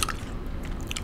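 Gum being chewed close to the microphone in a quiet setting, with soft wet smacks and crisp clicky bites packed into about a second, no voice present.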